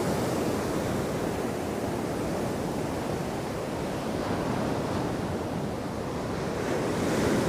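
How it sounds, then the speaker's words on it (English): Heavy sea swell pounding the shore after Storm Darragh at Hendon Promenade on the North East coast, a dense, steady roar of surf with wind buffeting the microphone, no voices. "the swell's just pounding"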